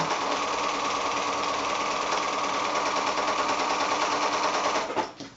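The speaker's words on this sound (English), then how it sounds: "so just that scant 1/4 inch away from the line, sew your seam" A sewing machine stitches a scant quarter-inch quilting seam for half square triangles, a loud, steady motor whir running without pause for about five seconds before stopping abruptly at the end.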